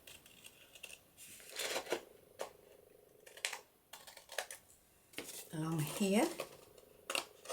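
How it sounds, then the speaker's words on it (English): Pinking shears snip through paper in a series of short, crisp cuts between pauses, close up, with someone briefly speaking over the work during a paper-craft session. "now we take our pinking shears, if we've got them, and we cut along here"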